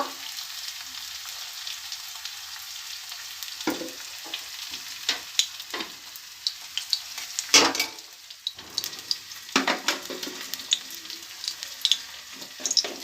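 Mustard oil heating in a wok on a rooftop, a faint soft sizzle broken by scattered clicks, scrapes and taps of utensils against the pan, with no talking.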